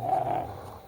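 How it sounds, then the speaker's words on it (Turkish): A dog growls in the medieval game Kingdom Come Deliverance 2, a short, close, low rumbling snarl that swells briefly and then trails off into the background. "Köpek."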